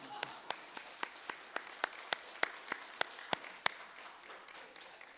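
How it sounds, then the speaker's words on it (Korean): A church congregation at a Korean Sunday dedication service claps: a fairly faint series of about a dozen sharp, evenly spaced claps in a steady rhythm, stopping abruptly near the end. "하나님께 영광의 박수"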